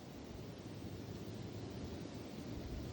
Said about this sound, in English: See, it's so windy, this match is already going out.